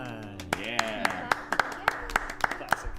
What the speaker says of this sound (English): Oh, Gloria's clapping.